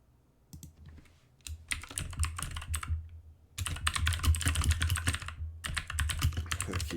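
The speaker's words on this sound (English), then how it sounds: "The keyboard is uneven now, too, so I can hear it bumping against the table." Close computer keyboard typing in bursts of rapid clicky keystrokes, with a low thudding from the uneven keyboard rocking and bumping against the table; pauses separate the runs of typing, and no one speaks.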